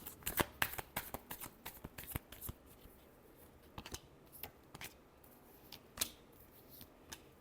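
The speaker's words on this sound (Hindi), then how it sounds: "Last shuffle." Tarot cards are shuffled by hand in a quiet room, giving soft papery riffles and sharp slaps at irregular intervals.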